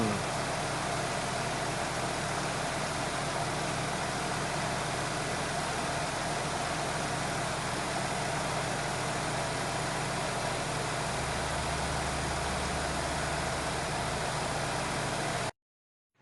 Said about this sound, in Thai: รถสวยสภาพดีมาฟังเครื่องยนต์กัน